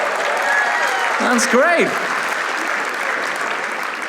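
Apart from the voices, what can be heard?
audience applause for a long-married couple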